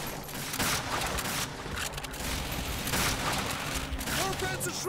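Machine gun fire in the Call of Duty: Finest Hour video game, dense bursts of rattling shots and booms mixed with battle noise, continuous and loud, with voices shouting over the fighting.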